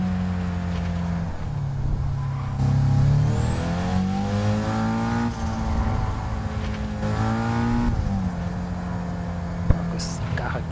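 A race car engine in Gran Turismo 7 drones loudly and continuously, its pitch climbing and dipping as the driver accelerates and shifts.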